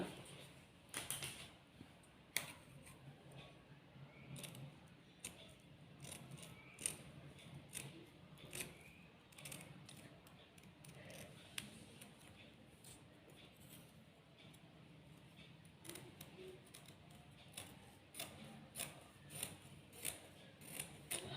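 Scissors cut blouse fabric for a back neck design, a quiet series of close crisp snips in an irregular rhythm over a soft room background.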